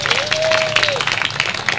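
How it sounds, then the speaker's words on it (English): Outdoor crowd at a Bayview Hunters Point groundbreaking ceremony gives a burst of applause, loud and close, with a brief whistle and scattered voices mixed in. "Let's give them a round of applause, folks."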